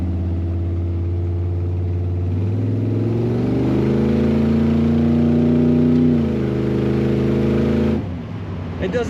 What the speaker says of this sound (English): Another car I wanted to just play with the throttle on for the sound of it.